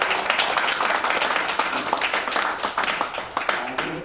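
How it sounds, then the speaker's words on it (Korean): A seminar audience claps for parents in a dense burst of applause at moderate level, with individual claps audible and slightly uneven peaks across the few seconds. "우리 학부모들에게 박수 한번 쳐주시기 바랍니다."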